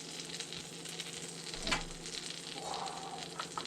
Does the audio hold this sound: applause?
no